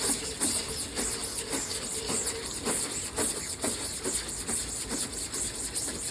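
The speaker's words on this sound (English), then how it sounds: "So I'm going to scrub away at this screen a little bit now." A screen-printing screen is scrubbed to loosen and remove leftover ink, giving steady rhythmic brushing strokes over a constant hiss, close and moderately quiet, with no talking.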